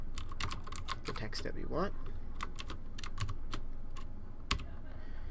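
Rapid keystrokes on a computer keyboard clatter in irregular bursts while someone speaks over them while writing OpenSCAD code.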